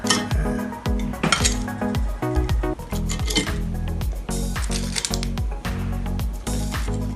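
Plating fried tempura fish: plates, pans and cutlery clink and clatter in quick, close, repeated knocks and scrapes, busy and fairly loud throughout.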